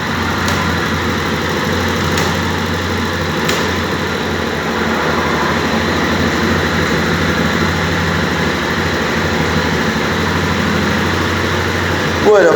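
A Gilera YL 200 motorcycle engine idles close by, a loud, steady low rumble with an even pulse that holds unchanged throughout.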